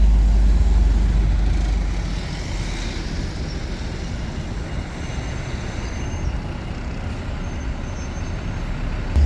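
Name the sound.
bus pulling out in Wakefield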